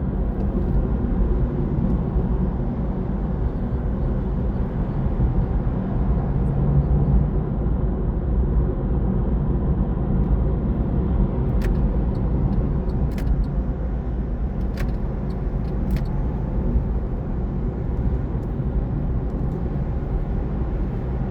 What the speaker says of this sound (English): This little electric car goes where I want it